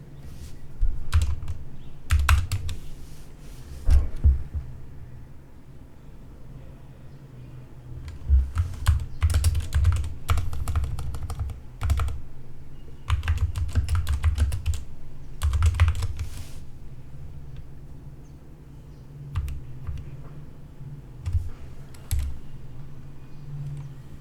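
Fingers type a terminal command on a computer keyboard while installing guest tools on Kali Linux, giving close, crisp key clicks in irregular bursts and pauses, with a low steady hum underneath and no talking.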